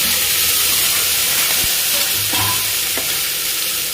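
Onions and tomatoes fry in a single pot with green chilies, producing a steady hissing sizzle close up, broken by a few soft knocks and scrapes of stirring.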